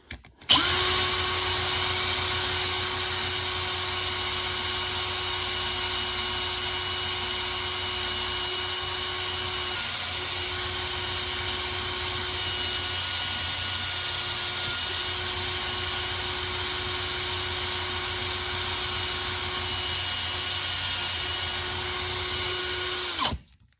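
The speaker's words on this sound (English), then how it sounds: "let's give this thing some buffing" A power buffing tool polishes a metal part during a 1950s restoration, giving a loud, steady, high-pitched motor whine that runs unbroken for over twenty seconds.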